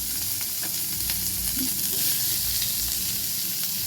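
Chopped onion and green chillies sizzle steadily in a hot pan, a dense, even crackle of frying oil at close range with no talking.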